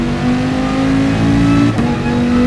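Gr4 race cars in GT Sport at the Dragon Trail Seaside circuit roar off the line together at a race start, a loud, dense engine drone rising in pitch with a brief shift partway through, no talk.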